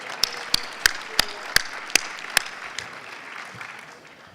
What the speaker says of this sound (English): let's give them a round of applause for showing up